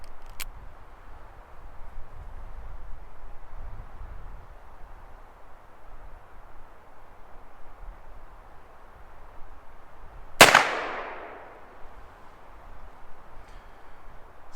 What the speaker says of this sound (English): We have one more shot to see if our cartridge conversion is a tack driver.